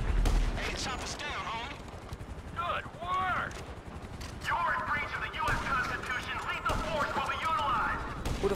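Bursts of gunfire from GTA V play out in short cracks and volleys mixed with game effects, with voices talking throughout and a sustained clatter of shots building in the second half.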